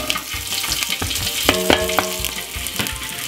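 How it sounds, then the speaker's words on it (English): About ten garlic cloves and two spring onions fry in a little olive oil, a close steady sizzle with spatula scrapes and a few clinks against the pan, and no one speaking. "Then we're gonna put about 10 cloves of garlic and 2 spring onion"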